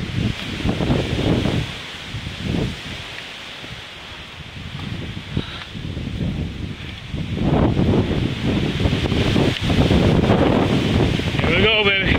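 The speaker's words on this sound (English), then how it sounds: "The wind." Wind at the Crowders Mountain State Park pinnacle buffets the microphone in rough, gusting roars that swell and ease, with rustling and a brief chirp near the end.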